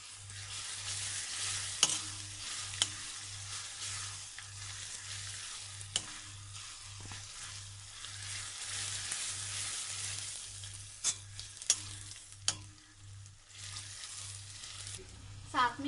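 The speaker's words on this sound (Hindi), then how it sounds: "ये देखिए प्याज फ्राई हो रहा है आहिस्ता आहिस्ता" Chopped onions with ginger-garlic paste sizzle steadily in a pan for a bitter gourd and onion dish, with occasional stirring scrapes and clicks over a constant low hum, and no one speaking.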